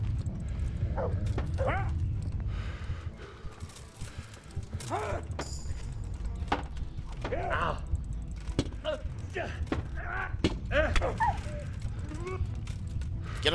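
A dog in the medieval game Kingdom Come: Deliverance gives several short barks and yips during a fight, scattered among clanking combat sounds, with a person talking over much of it.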